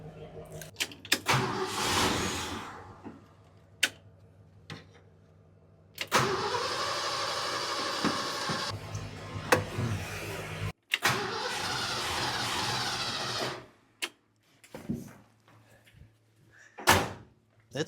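Car engine being cranked with a GOOLOO A7 jump starter, with bursts of starter grinding separated by pauses, door and mechanical clunks, close and moderately loud.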